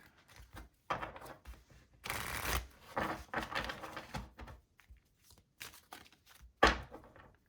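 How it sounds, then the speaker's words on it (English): A deck of Angel Messages oracle cards is shuffled by hand in close, irregular bursts of riffling and soft slaps, separated by short pauses. "Why do I feel like I forgot how to shuffle here today?"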